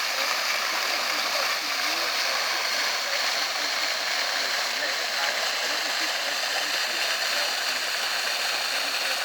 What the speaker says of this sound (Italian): Ed ecco questa grande, meravigliosa fontana.